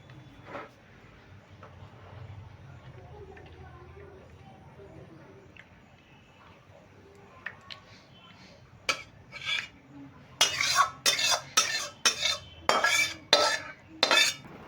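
Bhola fish cooked in mustard with eggplant is served from a pan into a bowl: soft scrapes and stirring give way to a rapid run of sharp metal spoon clinks against the pan and bowl near the end.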